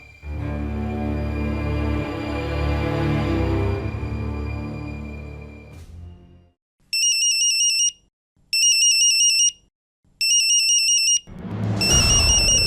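An incoming phone call rings in a Marathi TV serial scene. Background music fades out and an electronic ringtone sounds in three loud, evenly spaced bursts before the music swells back in.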